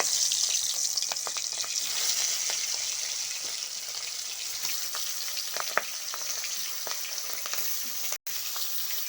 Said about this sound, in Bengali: তেল গরম হয়ে গেছে, চিংড়ি মাছগুলো প্রথমে ভেজে নেব। দিয়ে দিচ্ছি চিংড়ি মাছ।